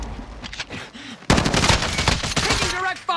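Video-game gunfire from a Swiss rifle in a multiplayer shooter, a dense burst of loud shots erupting suddenly after quieter moments, with a voice speaking over it.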